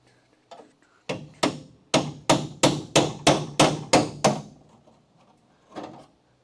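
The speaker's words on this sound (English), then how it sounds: "now we should be able to get at the rest of this with the hammer and the punch" Hammer driving a punch against the steel body of a Charger crew cab under restoration, about ten loud, evenly spaced metallic blows in a steady rhythm, close by, then a lone softer knock after a pause.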